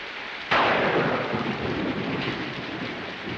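A sudden sharp crack of thunder, then a steady heavy rain hiss that continues evenly.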